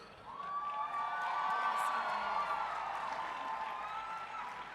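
A crowd at a cosplay championship applauds and cheers, with whoops and shouts rising over steady clapping, sustained and moderately loud, with a faint announcer's voice underneath.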